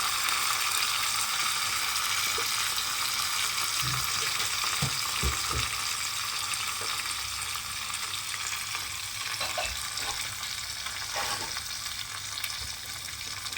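Asafoetida (hing) sizzles in hot oil while suji idli is being cooked, a steady close frying hiss with a few soft stirring knocks and clinks over about fourteen seconds, no talking.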